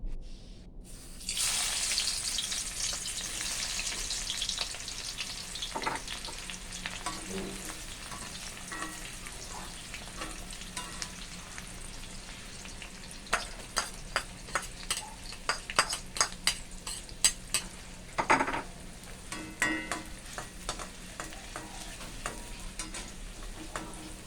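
Shallots fry in oil until crisp, giving a steady sizzle that starts abruptly and then runs throughout. Scraping and stirring clatter grows more frequent in the second half.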